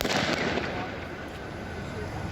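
Fireworks set off by teenagers on Halloween night at Denison Park in Vancouver crackle and pop in a dense, continuous barrage, fairly loud, with voices mixed in.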